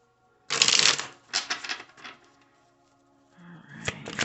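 Tarot cards are shuffled close by in a brisk riffle of rapid flutters that fades out, followed by a lighter rustle of cards near the end.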